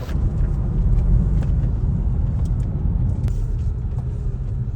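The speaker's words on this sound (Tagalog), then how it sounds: "Sobrang traffic papunta sa SM" Low, steady rumble of heavy road traffic on the way to an SM mall, heard from inside a vehicle, continuous and fairly loud, with no talking.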